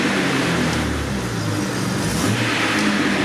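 A repaired camper engine runs steadily, a loud continuous low rumble with slight fluctuations in level, no talking.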